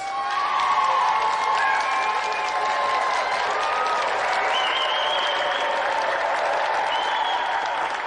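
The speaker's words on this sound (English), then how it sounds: "Another round of applause for our special guest" A TV game show studio audience applauding steadily, dense clapping with some cheering and whoops rising over it, sustained throughout.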